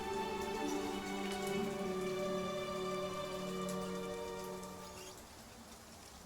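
Heavy rain pours steadily in the Crusader Kings III video game, a dense, even patter with no voices. Tonal ambient layers sit beneath it, and the downpour eases slightly toward the end.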